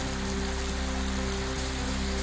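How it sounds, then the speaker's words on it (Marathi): Heavy rain falls in a steady, dense wash during a stormy downpour with wind in a town in Maharashtra, continuous and close with no voices. "जालन्याच्या घनसावंगी शहरासह तालुक्यात वादळी वाऱ्यासह पाऊस"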